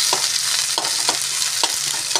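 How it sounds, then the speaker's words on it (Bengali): Grated ginger fries in hot oil for a simple fish curry, giving a steady close sizzle broken by about four sharp scraping stirs of a spatula across the pan. "আদাটা ভাজা হোক, এর কাঁচা গন্ধটা চলে গেলে তারপর আমি বাকি উপকরণগুলো মেশাবো।"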